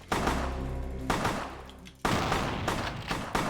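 Enemy shotgun fire in the Vampire the Masquerade Bloodlines video game: loud, close blasts heard as two long roaring bursts broken by a short gap, with sharp shot attacks inside each burst and no speech.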